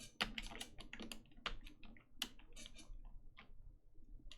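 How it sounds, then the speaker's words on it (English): Computer keyboard with a stuck key, a close run of irregular clicking key taps, quick and uneven, with no talk over it. "I got a feeling something's stuck on my keyboard."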